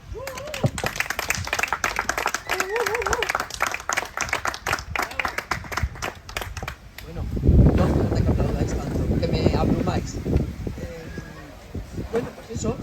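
Clapping for a Soria town councillor at a political conversation event starts under a speaking voice, then swells into a louder burst of audience applause before talk resumes.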